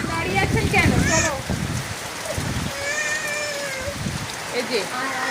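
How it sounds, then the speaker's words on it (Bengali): Heavy rain with wind pours down in a steady wash, while voices, including a high-pitched child's, talk and call out over it throughout. "এত হাওয়া, এত বৃষ্টি হচ্ছে"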